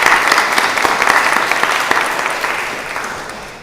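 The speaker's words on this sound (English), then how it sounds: "I think they deserve a round of applause for what they've done" A crowd applauds loudly at a church-style community gathering, a dense, continuous patter of many hands that stays close and strong for several seconds before easing slightly.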